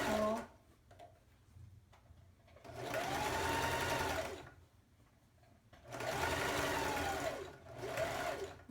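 A sewing machine back stitching runs in three loud bursts of steady whirring with short quiet pauses between them. Someone speaks softly during the gaps.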